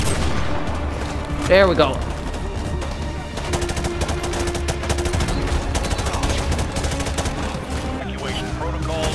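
Gunfire in the Modern Warfare 2 Campaign Remastered video game: rapid automatic bursts crackle steadily throughout at fairly close range, mixed with game sound, while a person speaks briefly over the shooting.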